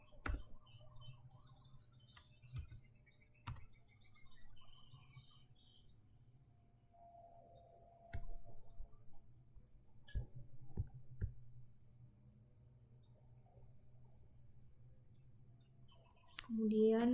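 Keys clicking on a computer keyboard as code is typed, sparse, quiet taps and short bursts over a low steady hum, with a voice speaking now and then.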